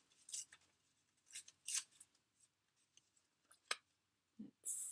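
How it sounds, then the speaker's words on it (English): Paper being torn by hand for a handmade journal embellishment, heard as several short, close ripping bursts separated by quiet pauses, with a few small clicks and handling noises. "I'm gonna rip this up."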